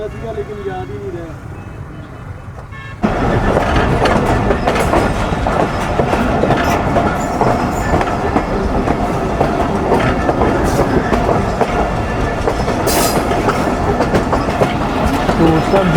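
The Millat Express passenger train runs on rails, a dense, steady rumble with clickety-clack and occasional wheel squeal, heard close from on board after a quieter opening moment.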